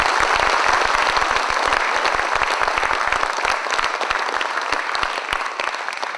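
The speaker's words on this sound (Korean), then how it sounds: "명예박사학위를 수여받으신 두 분께 다시 한번 축하의 박수를 보내주시기 바랍니다." A crowd applauds steadily at a university anniversary and honorary doctorate ceremony, dense clapping from many hands that holds strong, then thins slightly toward the end.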